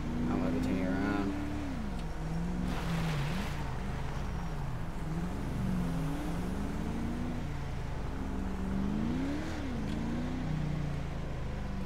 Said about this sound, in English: Has a good engine sound, this charger.